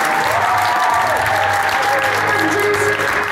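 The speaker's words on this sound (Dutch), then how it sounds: "Applaus voor mijn personeel graag." Loud, dense audience applause fills the hall continuously at a national education prize ceremony, with crowd noise and no pauses.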